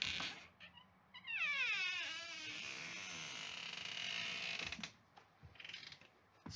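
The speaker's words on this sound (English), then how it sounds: "Squeaky hinges because the door is extremely heavy." Heavy vocal booth door swinging on squeaky hinges, a long loud creak that sweeps downward in pitch over about three seconds, followed by quieter knocks and shuffling, no talk.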